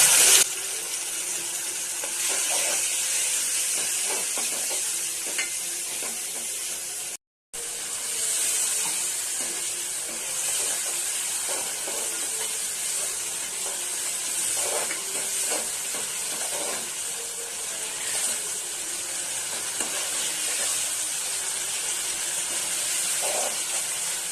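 Pabda fish curry cooking in a pan after a spoonful of chilli powder goes in, giving a steady, close hissing sizzle with faint stirring clicks throughout and a brief cut partway.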